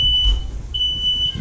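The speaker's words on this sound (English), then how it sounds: "Smoke alarm, like interrupting." A household smoke alarm set off by frying fish, sounding a steady high-pitched beep that sustains, briefly drops and returns, loud and near.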